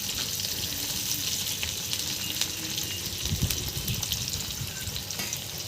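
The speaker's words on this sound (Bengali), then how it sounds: "এগুলো বাদামি মতো ভেজে নেব।" Whole spices such as cardamom and cinnamon frying in hot oil for a chicken curry, a steady close sizzle with faint stirring scrapes throughout, no talk.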